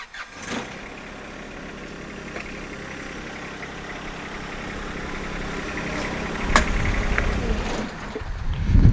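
A John Deere 1025R compact tractor pulls forward away from its detached backhoe, its engine a low, fairly quiet drone that builds toward the end as the machine moves off, with a couple of faint clanks along the way.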